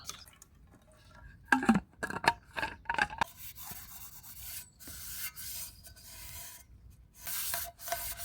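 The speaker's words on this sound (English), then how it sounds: "Give it a coat of the ash, rub it round with a bit of kitchen towel or a damp rag" A pan is rubbed with ash and kitchen towel at a campfire, giving close, gritty scrubbing and rasping strokes in irregular bursts, with quieter stretches between.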